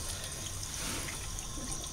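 Steady stream of water running back into a backyard swimming pool from a pool filter during cleaning, a continuous close splashing trickle with no talk.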